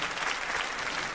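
A brief burst of steady audience applause at a philharmonic concert broadcast, fairly soft and even throughout, with no voices above it.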